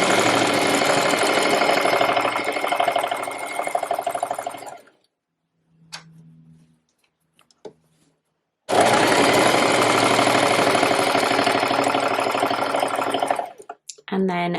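Sewing machine stitching an elastic waistband into trousers, loud rapid needle chatter in two long runs separated by a quiet pause with faint handling clicks, resuming briefly at the end.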